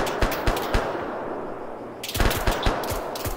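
M4 rifle fire in a street battle, a rapid burst of sharp shots, then a brief lull, then another rattling burst with some distant reports mixed in, loud and close without talk.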